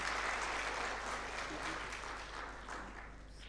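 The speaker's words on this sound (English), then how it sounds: "Can we please have a huge round of applause for sir?" Applause for a speaker at a law conference, a steady round of clapping from a hall audience, fairly faint beneath a low constant hum.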